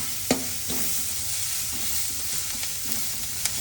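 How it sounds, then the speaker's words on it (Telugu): Chopped onions sizzle steadily as they fry in a pan, with a few sharp scraping strokes of stirring standing out near the start and end; no one speaks. "ఆల్మోస్ట్ రోస్ట్ అయిపోయినట్టే కనబడుతుంది నాకు ఆనియన్."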